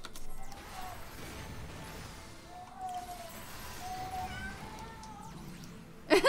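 A cat meows a few times, drawn-out and fairly faint, over a background of game music and ambience in Final Fantasy XIV: Heavensward, ending with a sharp clatter.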